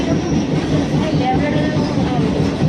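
A local train pulls away and runs along the rails, a loud, close, steady rumble with faint wheel clatter through the short stretch.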